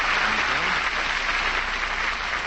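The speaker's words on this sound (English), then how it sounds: "that applause had a lot of life to it" A studio audience at a radio show greets Fred Allen with warm, dense applause, a steady wash of many hands clapping at once, loud and sustained throughout without a break.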